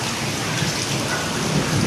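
Heavy monsoon rain pours down in Delhi in a dense, steady roar that never lets up, with no voices over it.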